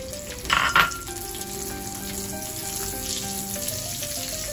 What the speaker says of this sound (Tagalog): When the butter is melted, let's put the garlic.